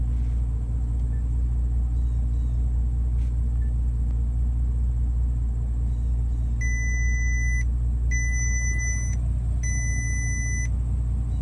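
Three evenly spaced tire pressure warning chimes from a Bentley Continental SuperSports ring out over the constant low rumble of its engine.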